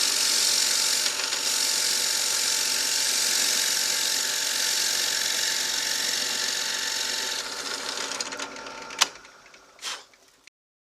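A drill press runs steadily in a workshop during guitar building, a constant mechanical hum and whir that continues for several seconds before winding down, with a few sharp clicks at the end.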